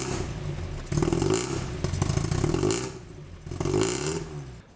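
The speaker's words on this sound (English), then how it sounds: "And now with the new exhaust." A Mazda MX-5 engine running with a new exhaust that has no resonator, revving up in several loud bursts with a raspy, rumbling tone and no one speaking.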